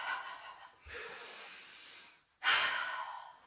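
A deep breath taken during a hip-circle workout: a long, close inhale followed by a strong exhale, heard alone with no talking.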